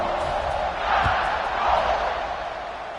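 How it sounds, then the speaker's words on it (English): A stadium crowd buzzes at a Georgia versus Alabama college football game just after a score, a loud continuous roar that swells twice, without clear talk. "this crowd is buzzing after that last score."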